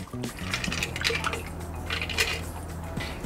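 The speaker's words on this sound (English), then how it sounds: "Strain into your cocktail glass." A Blue Island Splash cocktail is strained from a shaker tin into a glass, with a steady liquid pour, light ice clinks and small metallic taps close by.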